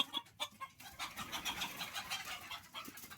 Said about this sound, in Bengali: মুরগি কিন্তু যথেষ্ট পরিমাণ চঞ্চল।